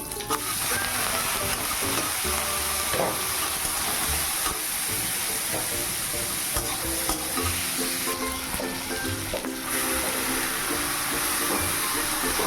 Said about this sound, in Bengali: তারপর একটু আলু দিয়ে আলুটা ভাজা ভাজা করে নেবো